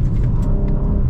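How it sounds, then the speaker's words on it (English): A BMW M4 Competition (G82) engine accelerates at full throttle, a loud, deep, rumbling roar heard close up and continuously over a brief second. "Anytime you flatten the throttle, whoa"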